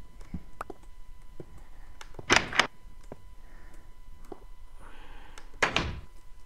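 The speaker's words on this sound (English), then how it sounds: "I'll drop my door. Put the door there." Door placed in the Minecraft video game: two short wooden thunks a few seconds apart, each fairly loud against quiet background with faint clicks.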